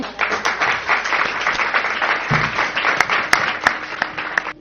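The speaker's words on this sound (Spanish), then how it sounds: "stina Cebas Gregorio, alcaldesa del Caudete, pido que le deis un fuerte aplauso" Clapping from an audience at a book presentation, a lively mix of individual claps with sharp louder hands popping out, fairly close and uneven, with a brief low thump partway through.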